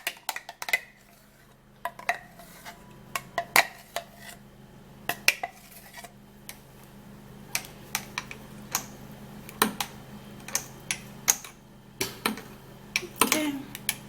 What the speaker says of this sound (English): I'm just stirring it so that the yam can be dissolved inside